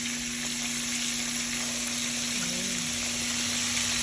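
Breaded country fried steak frying in hot oil, a continuous even sizzle with a faint steady hum beneath, close and constant with no talk.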